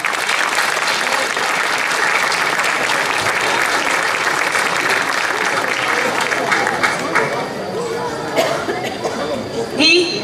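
Dense applause from an audience greets guitar and violão players at a cantoria performance, a loud continuous clatter of clapping with some crowd chatter mixed in, thinning slightly toward the end.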